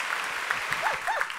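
Audience applause at a live comedy show, a short burst of clapping with voices talking and laughing over it.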